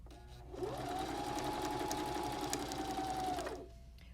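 A Baby Lock Zeal sewing machine stitches in one steady run of about three seconds, starting and stopping cleanly, close and alone in a quiet room.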